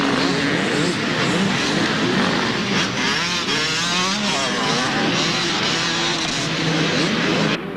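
Four-stroke trail motorcycles in a big clubman class race through a muddy hare and hounds event at Maeshafn, engines droning and revving loudly and continuously as several bikes pass close and blend together.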